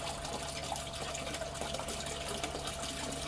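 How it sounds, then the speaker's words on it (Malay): Water running steadily out of a siphon into a grow bag, a continuous close trickling and splashing flow with no talk over it. "Okey, air dah mula keluar."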